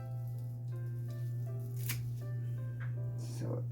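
Scissors snip ribbon for a Christmas bubble wreath in a few short, soft cuts, set against a steady low hum, with a voice speaking faintly underneath.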